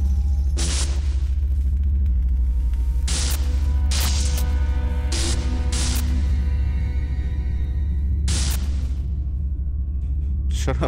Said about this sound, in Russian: Шаровая молния.